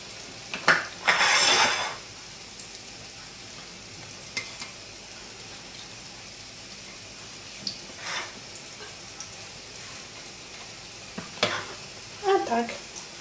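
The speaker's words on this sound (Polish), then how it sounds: "I tak smażymy do skończenia składników." Potato pancakes fry in a pan with a soft, steady sizzle. Several brief louder bursts of stirring or utensil clatter stand out above it, with no talk in between.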